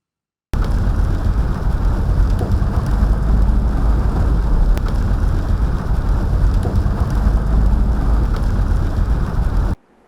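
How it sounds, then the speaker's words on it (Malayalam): Heavy monsoon rain pours down in Kerala as a dense, steady roar of rainfall with a low rumbling undertone, loud and constant for about nine seconds, with no voices. "സംസ്ഥാനത്ത് അതിതീവ്ര മഴ തുടരുകയാണ്"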